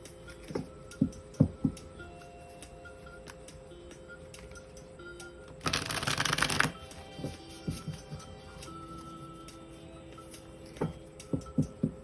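Oracle cards being shuffled in the hands, with soft scattered taps and flicks, then one brief dense riffling burst in the middle, close and fairly quiet over a low room hum.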